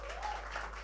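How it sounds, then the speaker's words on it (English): Crowd clapping at a game launch event, a short wash of applause heard briefly and evenly without a clear start or end. "Can we have a huge round of applause for the game launch?"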